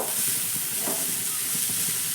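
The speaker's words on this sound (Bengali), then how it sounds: "ঢাকাটা খুলে দিয়ে আবারও ভালো করে একটু নাড়াচাড়া করে দেব" Shredded cabbage and carrot are stirred as they fry in a pan, giving a constant loud sizzle with rhythmic scraping strokes from the spatula throughout.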